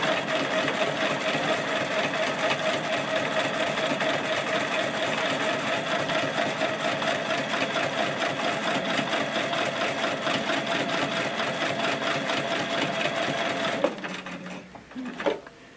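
A sewing machine stitches small quilt pieces with a steady, fast mechanical whir and needle chatter, close and continuous, before stopping abruptly near the end with a few handling clunks.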